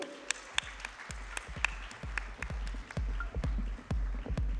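Applause from an event audience greeting actress Rani Mukherjee as she walks on stage at the FICCI Frames 2023 inaugural session, steady and moderately loud, with repeated sharp low thumps and clicks cutting through the crowd noise.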